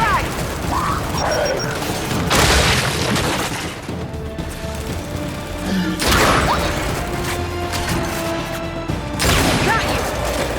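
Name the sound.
frag grenade exploding in Gears 5 video game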